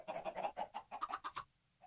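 Minecraft chickens cluck in a quick run of about a dozen short, bright clucks close by, then a brief pause before one more.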